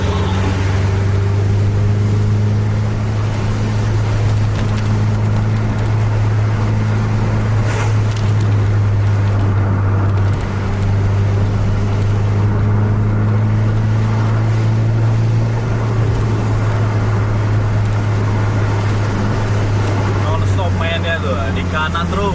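A Scania bus charges fast through heavy rain, its engine droning low and constant beneath dense hiss of rain and road spray, while people talk over the noise.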